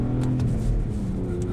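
Supercharged BMW E46 330ci with an SMG gearbox pulling hard, its engine a steady low droning rumble with a faint whine on top, close and continuous through the short stretch.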